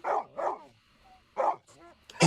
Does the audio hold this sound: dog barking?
yes